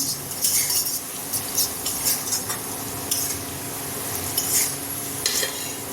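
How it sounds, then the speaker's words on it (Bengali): Ghee goes into hot oil in a pan for potato biryani, bringing a low sizzle under repeated metal spoon scrapes and clinks against the pan, with no talk. "তার আগে একটু ঘি দিয়ে দিচ্ছি"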